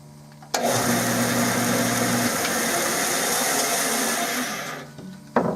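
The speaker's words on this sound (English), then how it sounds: "because I can put this flat surface down on my bandsaw" A bandsaw blade runs steadily through a wooden gun stock for a Remington 788, a loud, continuous whine and rasp lasting several seconds between the motor starting and stopping.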